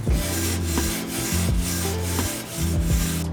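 BBQ grill grates being scrubbed clean with a non-wire scrubber, a steady close rasping rub with rhythmic strokes roughly every half second, loud and continuous throughout.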